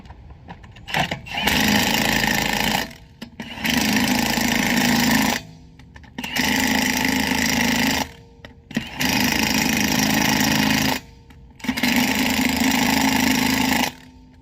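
Impact wrench on a low setting tightening the lug nuts on a 2020 Volkswagen Tiguan wheel in a cross pattern, five loud sustained hammering bursts, each lasting a couple of seconds, with short pauses between them.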